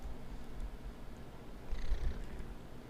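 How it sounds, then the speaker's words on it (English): A cat purrs close up in a soft, continuous low rumble that swells slightly toward the middle, with no talk over it. "Listen to that purr."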